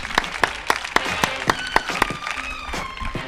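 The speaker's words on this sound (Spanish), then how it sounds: "Un aplauso para Javi, por favor." A studio audience at a Spanish comedy show claps in a steady, even rhythm of close, crisp beats, with a faint tonal hum underneath.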